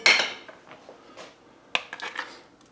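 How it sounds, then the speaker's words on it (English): A wooden spoon knocks and scrapes against a pot while stirring butter for polenta, opening with a bright clatter, then softer intermittent taps and a cluster of sharper knocks toward the end, with no talking. "Get a wooden spoon so we can stir."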